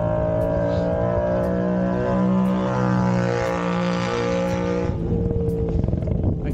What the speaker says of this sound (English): that was a loud motorcycle